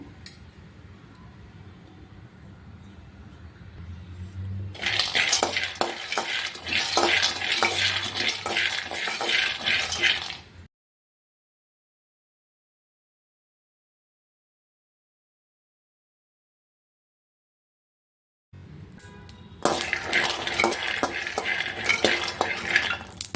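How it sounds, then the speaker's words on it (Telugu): Seeds dry-roasting in a flat pan on a stove, for bitter gourd spice powder, with busy scraping and rattling stirring in two bursts separated by a long silent gap. "స్టవ్ మీద ఒక పెనం పెట్టుకొని అందులో వేసిన గింజలు ఒక కప్పు వేసుకొని వేయించుకుంటున్నాను"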